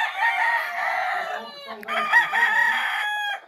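A gamecock crows at length on a ranch, one long call breaking into a second with a brief cluck in between, loud and near with no voices over it.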